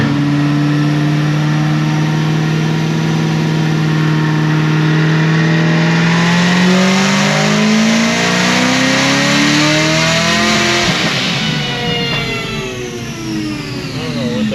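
A Procharged Camaro ZL1 engine revs hard through a pull, a loud rising whine and roar that builds steadily, then abruptly breaks into a rough burst as the coupler blows off and the revs drop.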